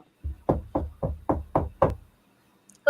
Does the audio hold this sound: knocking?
yes